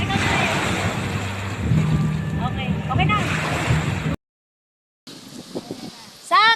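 Broadband wash of ocean surf and wind at a beach resort shore, with voices calling out over it; a brief pause, then more ambient water noise and excited speech.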